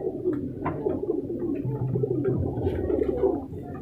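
Sherazi pigeons in a breeding setup coo in low, repeated throaty calls, overlapping and close, with soft chirps and rustling in the background.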